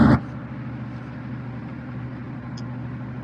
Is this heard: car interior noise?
yes